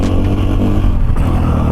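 A Husqvarna FE450 four-stroke dirt bike engine roars loud and close in a short burst, its revs surging and dipping in a quick blip.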